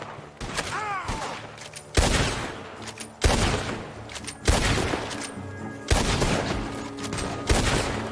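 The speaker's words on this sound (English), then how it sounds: "The gunshots are coming from that barn!" Heavy bursts of rapid gunfire boom repeatedly in a dense, continuous battle in Red Dead Redemption 2 on PS4, loud and close, with a brief shout of pain.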